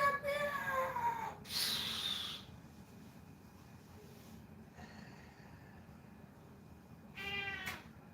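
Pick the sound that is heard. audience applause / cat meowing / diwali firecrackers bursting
cat meowing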